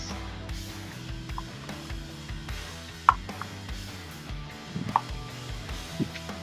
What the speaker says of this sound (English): So I'm going to cut these up into smaller pieces.